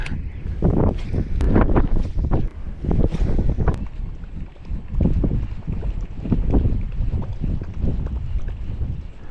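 Wind gusts buffet the microphone beside a sunny farm pond, coming as loud, rumbling bursts that rise and fall over several seconds with no speech.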